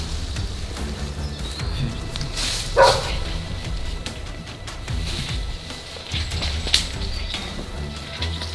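A dog barks a few times at an abandoned urban exploration site, the barks fairly distant and spaced out over a bed of outdoor noise with birds chirping.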